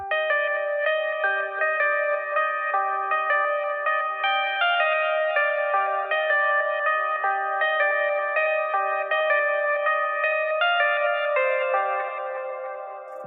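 A looping synth main melody for a beat made in FL Studio plays bright, repeating notes washed in echo and reverb, with tails that blur together and fade at the end.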